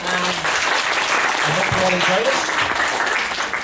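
Students applaud canteen staff at a school celebration, a loud sustained wash of clapping with a voice speaking over it.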